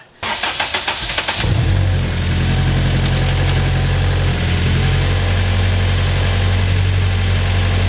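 Turbocharged K24-engined Honda Civic starting with a rapid cranking stutter, then catching into a loud, steady, close idle that holds deep and even to the end.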